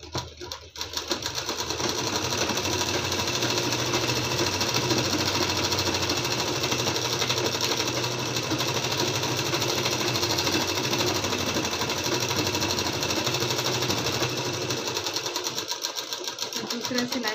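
A sewing machine runs steadily for most of the passage, a continuous fast needle chatter while stitching a kurti's lining seam, close and even, with speech passing underneath.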